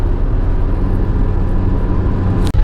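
A car drives along a road, its interior filled with a loud, steady low rumble and whir of engine and tyres, unbroken apart from a single sharp thump near the end, with no talk.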